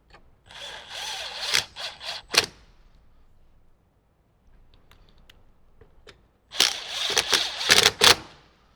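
A power drill drives screws into the roof trim of a Jeep JL Wrangler while its speaker system is installed. There are two close, loud bursts of whirring separated by a quiet pause, and each ends with sharp clicks.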